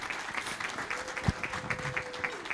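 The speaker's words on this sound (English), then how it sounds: "big, big round of applause?" Audience applause at a corporate charity breakfast: a soft, continuous patter of many hands clapping in a room, heard from some distance and fairly faint, with a voice briefly audible.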